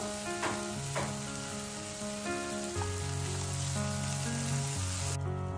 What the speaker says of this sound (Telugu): After 5 minutes stir fry, shallow fry అయిందండి.